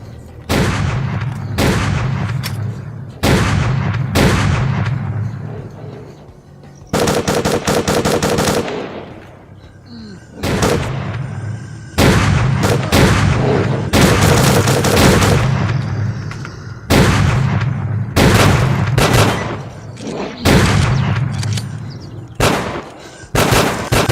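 Repeated loud bursts of automatic gunfire ring out during a fight with Snorks in S.T.A.L.K.E.R.: Clear Sky, coming in close, irregular volleys with short pauses over about twenty-four seconds.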